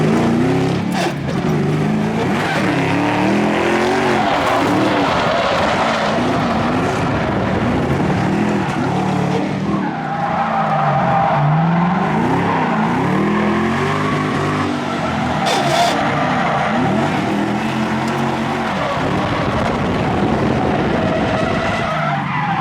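A Ford Mustang drifts with its engine roaring and rising and falling through revs, while the tires squeal and skid almost without pause, loud and close throughout.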